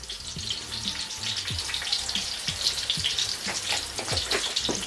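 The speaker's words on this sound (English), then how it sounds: "And now I'm going to stir this together and fry it for a couple of minutes" Curry powder and hot paprika fry in a pot of oil for Nigerian party jollof rice. A dense, bright crackling sizzle runs throughout, broken by several soft stirring knocks and scrapes, close and steady with no talking.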